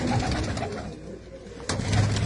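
Domestic pigeons at a house coo close by, a soft, throaty warbling that rises and falls under a steady background rumble.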